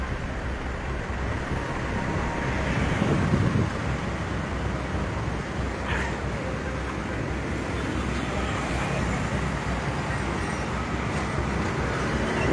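Jammed street traffic at the 7 Ulu junction in Palembang, mostly AKDP buses and cars queuing for diesel, forms a continuous loud rumble of idling engines with a brief hiss of air brakes.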